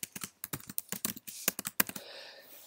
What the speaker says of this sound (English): Let me actually type it real quickly here.